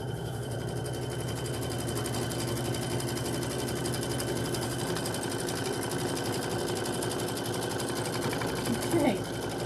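A quilting sewing machine stitches continuously with a fast, steady mechanical whir and rhythmic needle beat, loud and close, running unbroken throughout.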